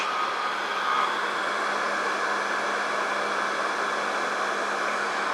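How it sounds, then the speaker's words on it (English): A hair dryer blows on a watercolor painting, giving a steady, close, even whooshing roar with no pauses for several seconds. "I need to hit it with the hairdryer"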